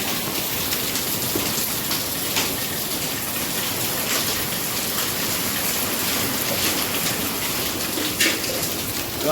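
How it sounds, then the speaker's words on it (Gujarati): Heavy rain with hail and stormy wind during a thunderstorm pours down steadily, a dense, loud, unbroken hiss of drops on surfaces that runs the whole time with no voices. "જો પડે છે વરસાદ ને વાવાઝોડું પવન ને એવું છે"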